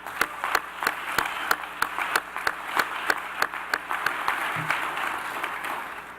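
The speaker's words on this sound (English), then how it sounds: "I want to just give you all a round of applause for that" An audience at a New Orleans community service presentation applauds with steady, fairly loud clapping for several seconds.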